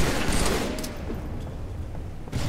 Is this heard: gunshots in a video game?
yes